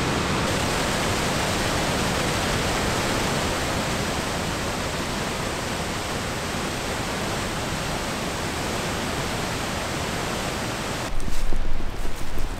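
Rushing water from waterfalls along a Swedish hiking trail, a loud, steady, broadband roar heard close up that continues unbroken, alone with no voices, briefly rising near the end.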